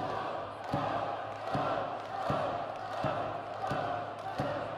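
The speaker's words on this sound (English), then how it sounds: "That chant by the Wenzhou crowd trying to urge the challenger" A wrestling crowd in Wenzhou chants in a steady rhythmic pattern, with regular loud beats roughly every three-quarters of a second over a continuous arena roar, with commentary talk mixed in.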